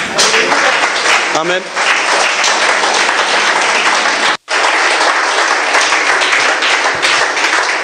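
A church congregation claps loudly and continuously in a dense, sustained wave of applause with a voice speaking over it. The applause breaks off for a moment and then resumes just as strongly.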